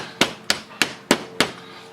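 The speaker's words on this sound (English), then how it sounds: "hit it a couple of times." A hammer strikes a Guarder L nozzle five times at an even pace. Each hit is a sharp, close, loud knock with a brief ring, and no one speaks.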